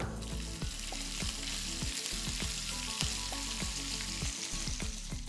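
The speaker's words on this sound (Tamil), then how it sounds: "கடுகு பொரிய ஆரம்பிச்சிருச்சு" Mustard seeds splutter in hot oil, sizzling and crackling steadily with rapid popping spatters, close up and continuous throughout.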